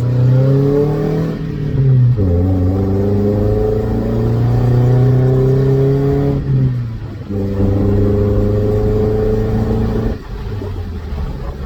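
A 2.7-liter Toyota Tacoma engine fitted with a Borla ProXS exhaust revs repeatedly, its deep loud exhaust note climbing and dropping in several pulls and settling between them, with no talk.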